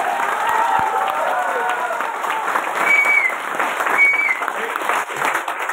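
An audience at a motivational talk claps loudly and continuously, a dense crowd of hands with some voices and murmurs mixed in throughout.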